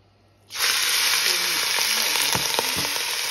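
Ground meat hits hot oil with a sudden loud burst of sizzling after a brief quiet moment, then a steady close hiss with a few stirring clicks underneath.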